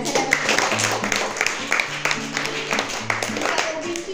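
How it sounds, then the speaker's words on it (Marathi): Audience clapping in a burst of applause at a friendship gift event, a spread of overlapping claps, moderately close, continuing for several seconds. "सुवर्णकारसाठी जोरदार टाळ्या झाल्या"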